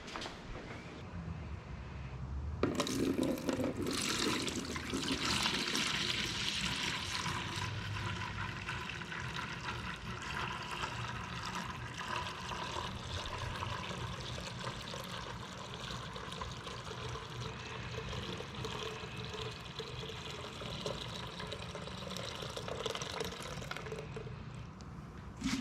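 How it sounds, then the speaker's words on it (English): Beer wort from a Brewer's Best raspberry golden ale one-gallon kit is poured straight from a kettle into a small fermenter, a steady splashing, trickling stream that surges loudly after a few seconds and runs on continuously near the microphone. "I'm just gonna dump it directly into our little fermenter"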